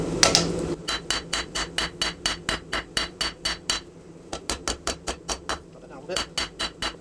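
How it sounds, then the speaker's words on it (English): A rounding hammer's flat face strikes a hot 5160 steel coil knife blade on an anvil in a forge shop, sharp ringing blows in a fast, steady rhythm of about three per second, with short pauses between runs. "take the flat side of our rounding hammer and just get to our desired thickness on the blade"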